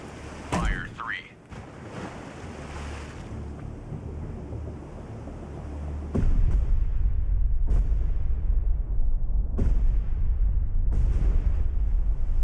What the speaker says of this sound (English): Ready depth charges.